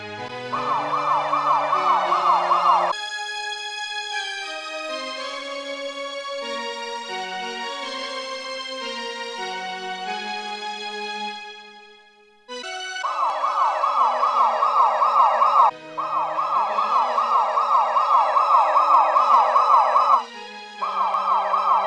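An ambulance siren wails loud and close in rising and falling tones, cutting out briefly around the middle before resuming in repeated bursts with no talk over it.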